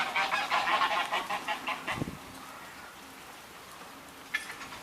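A flock of geese honks in a rapid, overlapping series, then quiets, with one more faint honk near the end.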